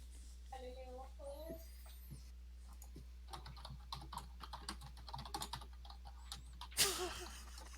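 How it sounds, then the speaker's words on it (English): Rapid typing on a computer keyboard, a quick patter of light clicks under a steady mains hum, with brief voices near the start and a loud burst of noise near the end. "I hear someone like, furiously typing away at a keypad."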